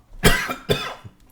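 A person coughs twice from smoke, two sharp close coughs about half a second apart, then a faint trailing breath.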